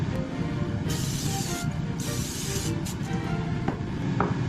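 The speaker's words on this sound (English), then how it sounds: "I'm going to spray our fish with this olive oil cooking spray" Two bursts of hissing olive oil cooking spray, each lasting under a second, then a couple of quicker short spritzes over fish, over faint background kitchen noise.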